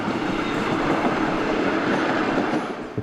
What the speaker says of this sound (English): then there's a train coming the other way